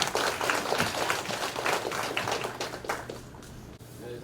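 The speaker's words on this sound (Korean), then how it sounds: "뜨거운 박수로 환영해 주시기 바랍니다." An audience at a residents' briefing on a Moa Town redevelopment project in Cheonho-dong applauds to welcome the next presenter, with steady, fairly loud clapping that thins out toward the end.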